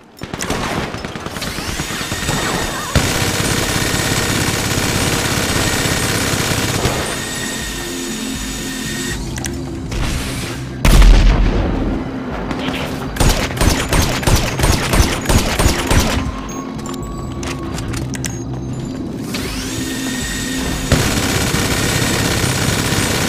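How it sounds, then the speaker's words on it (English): Rapid, loud bursts of an atomic gun firing in GTA 5 Online, with dense rattling volleys and harsh electronic tones alternating with steady engine-like game ambience. "He got that atomic gun."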